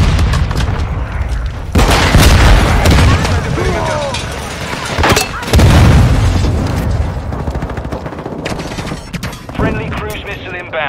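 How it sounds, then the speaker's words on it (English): Explosions and rapid gunfire in Call of Duty Modern Warfare II multiplayer, including a Semtex grenade blast, loud repeated booms and bursts of shooting under shouted callouts and radio chatter. "Stun grenade out! Semtex out!"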